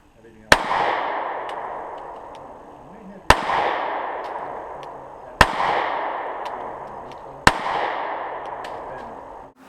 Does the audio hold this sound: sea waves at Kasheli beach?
no